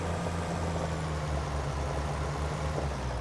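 A tractor engine in a farming video game idles with a steady low rumble and a faint rhythmic throb, continuous and moderately loud, with no talking.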